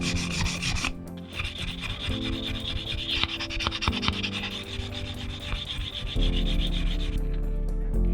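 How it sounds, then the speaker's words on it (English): Edges of a 3D printed game piece smoothed with a burring tool and sandpaper, producing steady close scraping and rubbing strokes over a constant background hum. "I'm using the burring tool and some sandpaper."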